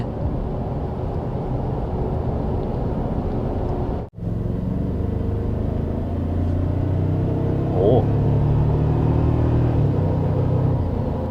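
A Toyota Tacoma TRD Sport 4x4 in sport mode drives on a mountain road with curves, its engine a steady low rumble under road noise, rising slightly in the second half; no voice is heard.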